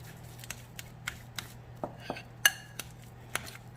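Spoon or spatula clinking and scraping in a bowl while cream cheese and spinach filling for stuffed chicken breast is mixed, giving a series of sharp, irregular knocks over a low steady hum.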